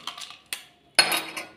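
A spoon stirs a homemade ginger mocktail in a glass, giving a few sharp clinks and scrapes against the glass, then a louder burst of rattling near the end, close by with no talk.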